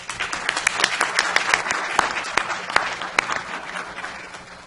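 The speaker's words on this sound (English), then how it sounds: "Let's give Jason a round of applause." Audience applause at a city council meeting, a modest crowd clapping with distinct individual claps standing out, steady for several seconds and then easing off.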